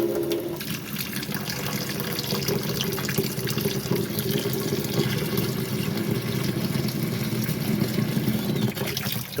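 Water runs steadily from a faucet into a plugged kitchen sink, a continuous splashing, filling rush heard up close and loud for the whole stretch, with no talking.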